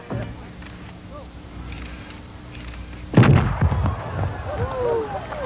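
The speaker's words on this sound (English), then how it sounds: "The cannon roars, and another champion will be crowned." A ceremonial cannon fires at a PGA Tour golf tournament at Harbour Town Golf Links. A single loud, deep boom cracks out after a few quieter seconds and rumbles away across the open grounds, with faint crowd sounds around it.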